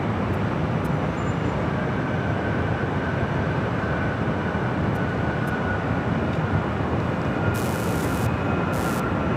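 A Dreamliner airliner lands on runway 24 right at LAX, a loud, steady broadband roar of jet engines that holds without break throughout, heard alone with no voices.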